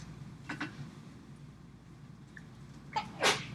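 A single sharp sneeze bursts out near the end after a quiet moment, preceded by a softer breathy sound.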